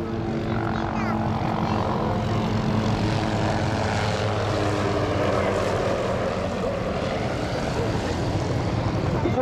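A military aircraft banks into a sharp turn above an air show crowd at Kisarazu, with a loud, continuous propeller and engine roar throughout while an announcer talks over the noise.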